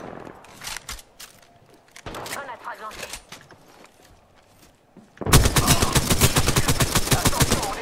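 Apex Legends gunfire: scattered shots and short bursts early, then a sustained loud burst of rapid automatic fire near the end, with a voice talking over parts of it.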